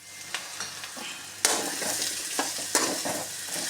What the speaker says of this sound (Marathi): हे पहा, चांगल्या प्रकारे परतून घ्या।